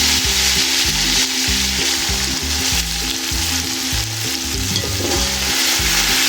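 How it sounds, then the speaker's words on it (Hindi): Continuous loud sizzling and crackling of tomatoes frying in a pan with ginger-garlic paste, green chillies and spices, with rhythmic scraping and stirring throughout, no voices. "और इन टमाटरों को अच्छे से भून लेंगे।"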